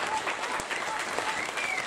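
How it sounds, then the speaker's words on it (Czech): Audience at a Christmas show applauds the band, a dense, even wash of many hands clapping from a hall full of people, moderately distant and steady throughout. "zatleskejte jim, děkujeme"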